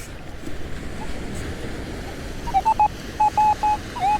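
A metal detector on wet beach sand gives a series of short, steady electronic beeps over constant surf and wind, the tones arriving in a quick broken run near the end.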